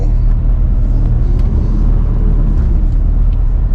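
A car drives steadily with a constant low engine and road rumble, close and even throughout with no voices.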